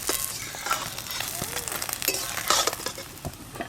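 An egg sizzles and fries in a little oil in a pan, a steady close crackling hiss with stirring and scraping noises throughout.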